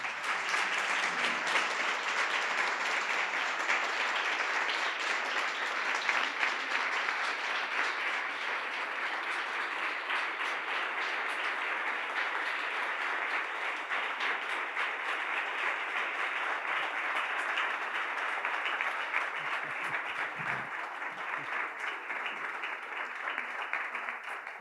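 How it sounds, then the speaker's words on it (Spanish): Sustained audience applause welcoming a speaker at a book presentation, a dense, steady wash of clapping from a room full of people that holds for the whole stretch and tapers slightly near the end. "lo mejor que podemos hacer es dar un gran aplauso y recibir a Marly Quennerth"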